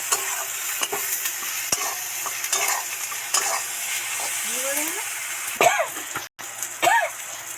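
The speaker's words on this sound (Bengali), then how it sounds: "ভালো করে নেড়ে চেড়ে মিশিয়ে দেব" Chili powder, turmeric and a little sugar being stirred into frying spices in oil, with a steady hiss of sizzling, intermittent scraping stirs and a brief break, plus faint voice sounds in the background.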